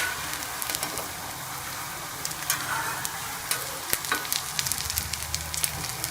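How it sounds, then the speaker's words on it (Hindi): Chicken shami kababs fry in a pan with a steady, close sizzle and crackle of hot oil, scattered pops and soft clicks throughout, and no voices. "मैंने कबाब फ्राई कर लिए और बाकी भी मैं इसी तरह फ्राई कर लूँगी"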